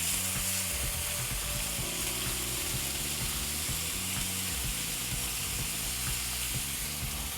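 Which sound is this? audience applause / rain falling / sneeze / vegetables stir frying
vegetables stir frying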